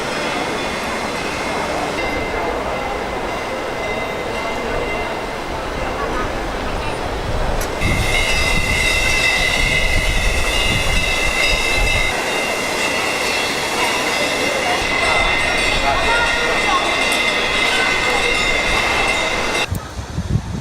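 A metro train running through a station beneath a Buddhist temple in Shanghai, a loud rumbling rolling approach that swells into sustained high-pitched wheel squeal and clatter, with voices murmuring in the background.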